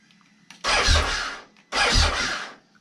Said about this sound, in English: you can hear the engine wants to turn over, right?